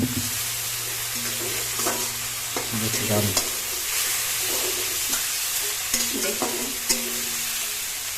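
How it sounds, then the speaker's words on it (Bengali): Whole garam masala spices fry steadily in hot oil in a pan for an egg and eggplant curry, a continuous close sizzle broken by repeated scraping strokes of a stirring spoon. "গরম মশলা দেখতে পাচ্ছেন প্যাকেটটা আমরা এটাকে ভেজে নেব চলুন তাহলে আমরা এটাকে ভেজে নিই"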